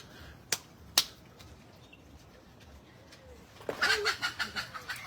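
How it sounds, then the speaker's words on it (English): Chicken flapping into flight outdoors in Samoa, with two sharp snaps early on, then a burst of close wingbeats and clucking in a quick pulsing run near the end. "A flying chicken."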